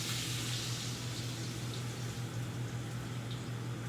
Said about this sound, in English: Melted butter right into the skillet. Ooh, that's hot.